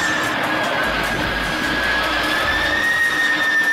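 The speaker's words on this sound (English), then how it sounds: "Airbus A300-600ST, a heavy transport aircraft developed by Airbus, commonly known as the Beluga" Jet engines of an Airbus A300-600ST Beluga heavy transport aircraft whine and roar steadily, a loud sustained turbine tone with a rising high pitch and deep rumble.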